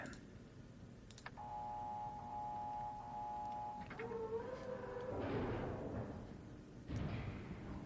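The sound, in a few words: button pressed, mechanism running in Myst video game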